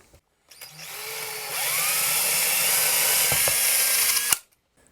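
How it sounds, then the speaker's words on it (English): A power drill whines steadily as it bores a pilot hole into wood for a custom Telecaster guitar build, starting after a brief pause and running at a high pitch for several seconds before stopping abruptly. "So what I'm going to do is drill myself a pilot hole."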